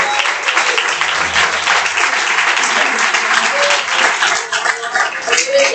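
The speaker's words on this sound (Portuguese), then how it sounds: "adore ao Senhor com a salva de palmas." A church congregation claps together in praise during a worship service, a dense, continuous, fairly loud wash of applause that carries on steadily with no pause.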